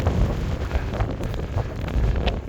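Strong, gusting wind buffets the microphone on an exposed Scottish mountain summit in Glen Lyon on a wet day, a loud, rough roar that surges and dips with no voices.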